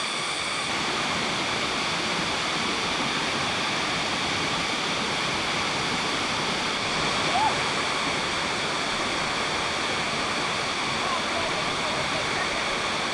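Erawan Waterfall's seventh tier in Thailand roars as a steady, broadband wash of falling water, constant and enveloping from start to finish with no breaks.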